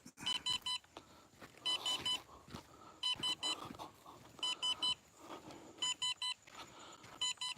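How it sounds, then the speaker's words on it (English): Rapid bursts of high electronic beeps from a radio controller's low-battery alarm repeat in regular clusters about once a second, fairly close, over faint background noise. "That beeping's my radio."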